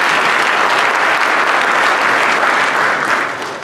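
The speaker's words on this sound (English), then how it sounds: "I'll ask for a round of applause for Mr. Mitchell as well." Loud, sustained round of applause from a large audience for a staff member at a speaking event, thick uniform clapping that stays full before tapering off in the last half second.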